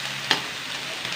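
Pork fat rendering in a pan for adobo, a soft, even sizzle of frying fat with one sharp utensil clink near the start and a faint tap near the end.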